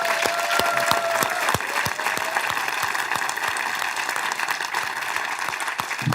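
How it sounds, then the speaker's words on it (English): Audience applause fills a Rock Hall event honoring Rush's Geddy Lee and Alex Lifeson, steady clapping from a large crowd throughout, dense and sustained with a few scattered louder claps. "So let's hear it one more time for Donna Halper"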